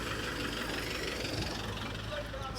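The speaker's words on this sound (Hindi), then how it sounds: "ये उसका ड्राइवर है और उसका ट्रैक्टर भी उसने रखा हुआ है" A tractor fitted with a levelling plate, headed to farm fields near a village, idles with a constant low, rumbling drone up close. Voices are heard over the engine noise.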